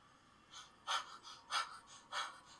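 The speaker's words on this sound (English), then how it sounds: "He needs to keep his breathing in check." An anime character from Tokyo Revengers breathes heavily, a close series of about five rhythmic breathy gasps and pants with no talking.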